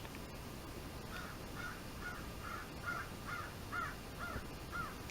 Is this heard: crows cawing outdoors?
yes